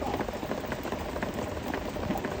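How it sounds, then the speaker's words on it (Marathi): Heavy rain falling on a village, a steady dense patter and hiss with no pause, moderately loud and continuous. "पाऊस काय आता थांबायला नावच घेत नाहीये"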